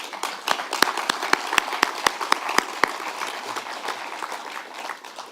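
An audience at a launch celebration claps for Adam Rose, a few sharp, distinct claps standing out over a softer spread of applause that thins and fades by the end.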